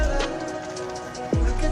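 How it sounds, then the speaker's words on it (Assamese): Steady rain falls throughout, a dense close hiss of drops on surfaces, with a brief low swooping sound near the end. "বৰষুণো পৰি থকা হৈছে"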